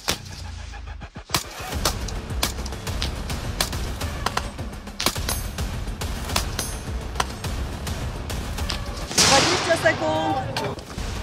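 Gunfire at a competitive shooting range during a Lekka Piechota 2025 event, loud sharp shots cracking repeatedly across a busy noisy background, with a dense cluster of reports near the end.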